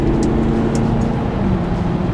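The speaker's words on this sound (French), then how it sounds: "Attendez, je dépasse un camion." A car's engine drones steadily with dense road noise as it overtakes a truck on a highway, a loud, constant rumble close inside the cabin with no talking.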